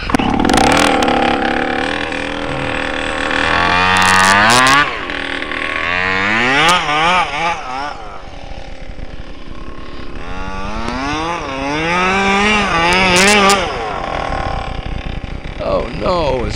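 A small gas-powered FG RC truck engine revs loudly in snow, rising and falling in repeated bursts close by, while people talk over it now and then.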